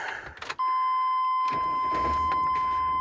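A 1998–2000 GM pickup truck engine cranks briefly, then catches and settles into a steady idle, running close and even while a warning chime sounds over it.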